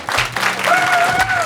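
A live improv show audience, IMPRO DŽEMAS, gives loud, dense applause that fills the room without pause, with a faint vocal tone rising briefly over the clapping.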